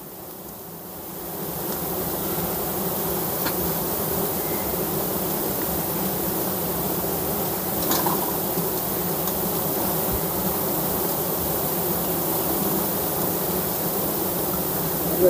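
Honey bees swarm around a beehive during honey collection, a steady close, dense buzzing hum that holds throughout with no talking.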